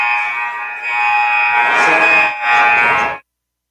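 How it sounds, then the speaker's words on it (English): Hockey arena buzzer sounding to signal the start of a period, a loud, steady electronic horn holding for about three seconds with a slight dip before cutting off abruptly. "We're hearing the buzzers here"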